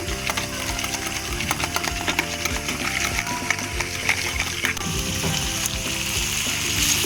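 Mutton cooking in a pan for korma, a steady dense sizzle with scraping and clinking from stirring that carries on throughout, close and fairly loud.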